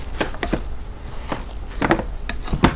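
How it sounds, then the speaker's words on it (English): A rice spoon fluffing cooked rice inside a multi cooker pot, several soft, close scraping and squishing strokes in an irregular rhythm, with no talking. "Let me use my rice spoon to fluff it up."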